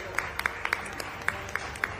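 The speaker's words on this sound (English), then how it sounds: "Big round of applause." Clapping rings out at an Indian award ceremony for winners called to the stage, a handful of distinct claps standing out over crowd murmur and faint voices.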